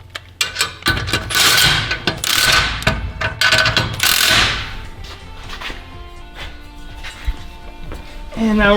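A hand ratchet clicks in quick bursts while snugging an exhaust clamp on a 2019–2024 GM 6.6L truck. The rapid metallic pawl clicks are close and loud, with clanks and thumps from the work.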